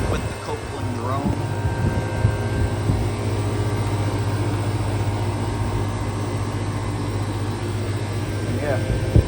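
A 2010 Trane XR13 residential air conditioner runs outdoors with a steady, loud mechanical hum and whir, holding constant throughout with faint tonal whine on top.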